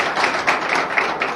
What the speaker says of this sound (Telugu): మరొకసారి చప్పట్లు కొట్టండి.